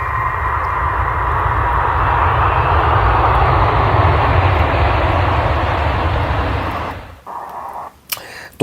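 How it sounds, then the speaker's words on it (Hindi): A US Air Force C-17 military transport jet lands with a loud, steady roar of jet engines that holds for about seven seconds, then cuts off abruptly, leaving quieter rumbling and a sharp knock at the end. "एक के बाद एक विमान उतारे गए मिडिल ईस्ट में।"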